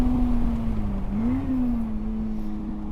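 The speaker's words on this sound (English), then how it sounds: "You'll notice the engine is cutting out slightly." A Lotus Elise on a race track drones with a steady engine note that briefly dips and wavers mid-way as fuel starvation makes it falter, close and loud.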